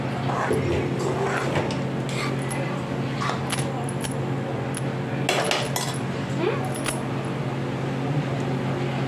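Carrot halwa is stirred and roasted in ghee in a pan, with repeated clinks and scrapes of a metal spoon against the pan over a steady background hum, while a voice speaks intermittently.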